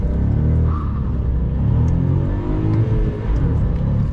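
A 2022 VW Up GTI with a 1.0 TSI 115 hp engine and 6-speed gearbox pulls from inside the cabin, a steady, loud engine rumble and drone with road noise.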